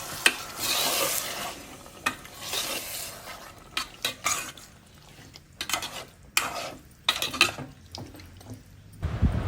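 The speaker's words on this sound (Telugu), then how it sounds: "స్టవ్ హై ఫ్లేమ్లో పెట్టి చికెన్ అంతా బాగా ఆయిల్లో ఫ్రై అయ్యేలాగా వేయించాలి" Chicken fries in oil over a high flame, a bright dense sizzle broken by irregular spoon stirs and clinks against the pan, close and fairly loud, with no voices.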